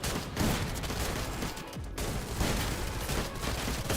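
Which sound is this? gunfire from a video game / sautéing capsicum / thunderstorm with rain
gunfire from a video game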